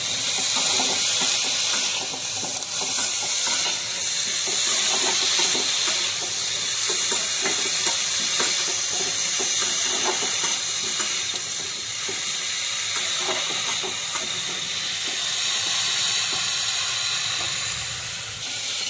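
Eggplant pieces with salt frying in hot oil in a pan, a steady loud hiss and sizzle with faint stirring scrapes that continue unbroken.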